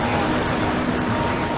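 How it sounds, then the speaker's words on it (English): A Duffy electric boat cruises across a bay near Naples Island, giving a steady, even drone of motor hum and water rush that stays constant and fairly loud throughout, with no speech. "So we're on this Duffy boat"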